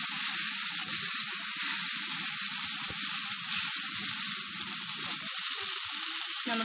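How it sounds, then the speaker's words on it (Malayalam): Onion masala with turmeric and chili powder sizzles steadily in a pan, a continuous close frying hiss with occasional stirring scrapes, no voices. "നമ്മുടെ മസാല ഇവിടെ നന്നായിട്ട് വഴന്നു വന്നിട്ടുണ്ട്."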